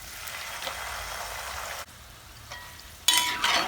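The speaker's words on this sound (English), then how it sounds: "when I was frying the first one" Plantain chips frying in hot oil give a steady crackling sizzle, close and fairly quiet, which thins out partway through and then returns sharper and louder near the end.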